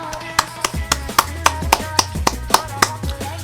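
Rhythmic sharp claps, about a dozen at a steady quick pace, over a low droning backing.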